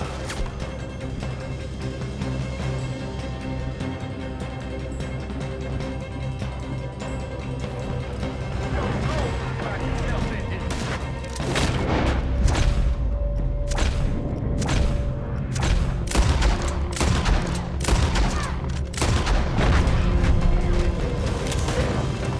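Gunfire in a Red Dead Redemption 2 firefight, a run of sharp, loud cracking shots in irregular succession over a dense background of rumble and clatter, the shooting growing busier in the second half.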